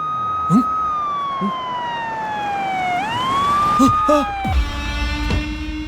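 A loud wailing ambulance siren sweeps down and back up in pitch, with brief voices and other noises breaking in over it.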